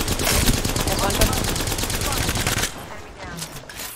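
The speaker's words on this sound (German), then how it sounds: "da sniped einer von oben" Rapid gunfire in the Apex Legends video game, with a sniper firing from above: dense bursts of loud shots for about two and a half seconds, then they drop off, leaving quieter sounds and faint distant shots.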